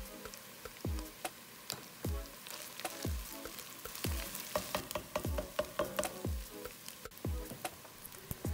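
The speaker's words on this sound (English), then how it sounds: "I'm going to add some tomato paste and let that caramelize my vegetables." Vegetables and tomato paste sizzling and caramelizing in a pan for braised short ribs, a soft crackling fry broken by repeated stirring scrapes and taps at an uneven rhythm, close but fairly quiet.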